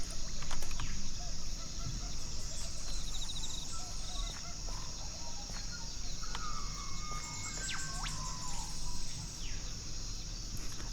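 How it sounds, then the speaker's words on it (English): Birdsong from the Ambient mod in Minecraft, played in a bamboo forest: scattered chirps and short whistled calls over a steady hiss of background ambience, fairly faint, with no talking. "I love the bird sounds from Ambient mod, but they really don't suit a bamboo forest."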